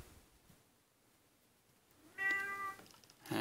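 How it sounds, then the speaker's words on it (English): An old, deaf cat lets out one loud, drawn-out meow close by, followed by the start of another call, over a quiet indoor room. "she meows really loud now to let us know where she is"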